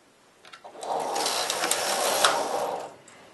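A knitting machine carriage is pushed across the needle bed while shaping a set-in sleeve knitted upside down, giving a steady mechanical whirring rattle of about two and a half seconds, close and alone.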